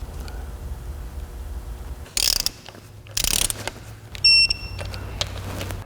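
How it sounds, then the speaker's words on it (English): Ratcheting clicks of a torque wrench tightening Loctite-coated bolts to 20 foot-pounds while installing a nylon cam button, in short bursts with sharp metallic taps and a brief high ping between quieter workshop stretches. "These get Loctite. They get torqued to 20 foot-pounds."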